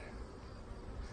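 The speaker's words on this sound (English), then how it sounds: "I got a whole lot of bees down this end." Honey bees humming at an open hive with its brood chamber exposed, a steady, faint, continuous drone of many insects with no gaps.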